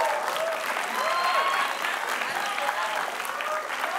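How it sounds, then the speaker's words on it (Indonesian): A TV game show studio audience claps steadily and loudly throughout, a dense sustained round of applause with faint voices mixed in. "Ayo, tepuk tangan untuk Rina."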